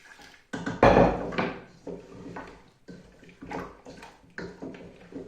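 Hot water is poured into a cooking pot of Tunisian barley chorba mixed with salt and other ingredients, making a loud splashing pour of about a second, followed by quieter knocks and clinks of cookware.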